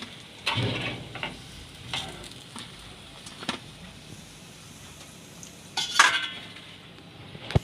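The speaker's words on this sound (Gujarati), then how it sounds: "જો આ રીતે આપણે ફ્રાય કરી લેવું બધાય" Spinach snacks fry in a pan with a soft, continuous sizzle, while utensils clink and scrape against the pan at intervals, including one louder clatter.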